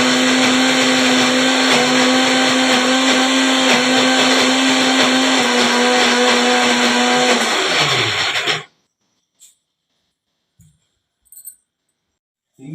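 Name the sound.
mixer grinder running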